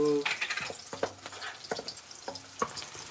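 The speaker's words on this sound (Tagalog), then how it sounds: "So, we're going to saute muna pala the alamang." Alamang shrimp paste sautéing in a pan for Bicol Express, with a steady faint sizzle beneath repeated scraping stirs of a spoon, each stroke a short clatter against the metal.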